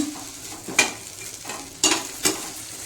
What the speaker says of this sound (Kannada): ಅರ್ಧ ಸ್ಪೂನಷ್ಟು ಜೀರಿಗೆ ಹಾಕಿ ಇದನ್ನು ಸ್ವಲ್ಪ ಚೆನ್ನಾಗಿ ಫ್ರೈ ಮಾಡೋಣ್ರಿ